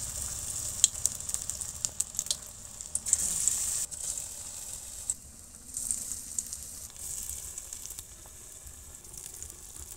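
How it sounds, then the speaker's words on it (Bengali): Wheat dumplings (bora) frying in hot oil in a wok, a continuous bright sizzle that swells as pieces drop in, with small crackles and pops scattered throughout; no voices. "এই দেখুন আমার তেল গরম হয়ে গেছে, এবারে এক এক করে সব বড়াগুলো দিয়ে দেবো।"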